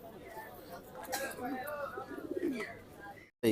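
Pigeons cooing at a crowded pigeon market in Tongi, soft bubbling coos heard faintly beneath nearby conversation.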